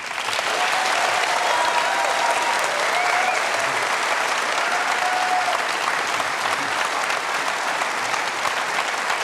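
A studio audience gives sustained, even applause for Prime Minister Kevin Rudd at the close of a televised Q&A panel, a thick wash of clapping with no break from start to finish.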